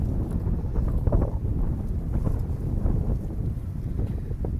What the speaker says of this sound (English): if this wind will die down tonight